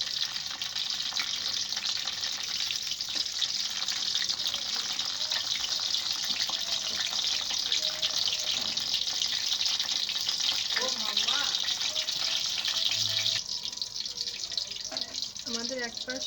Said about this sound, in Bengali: এভাবে আমরা একে একে ভাজতে থাকবো